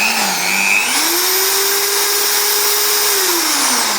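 An IBELL 13mm impact drill whirs on its variable trigger, its pitch climbing, holding steady at a slow speed and then dropping as the trigger is eased, loud and close with no talking.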